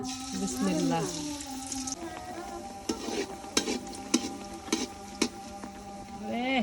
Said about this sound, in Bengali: তাহলে পিঠা ভাজবো